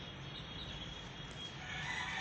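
Chickens cluck softly at a distance over a steady outdoor background hum, a few scattered calls and no talking.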